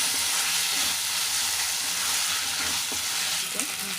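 Raw prawn curry frying in a pan, a steady loud sizzle with intermittent scraping stir strokes throughout, no talk.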